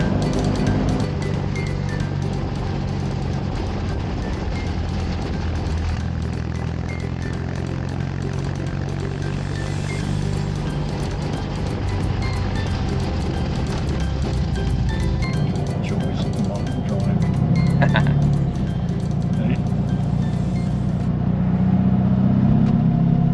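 A Fiat 500 drives along just after a fuel pump and carburettor rebuild, its engine droning steadily from inside the car, with the pitch and road noise rising toward the end.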